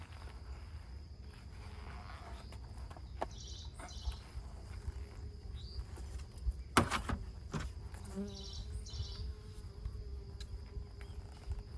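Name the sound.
insects buzzing around bee colony hives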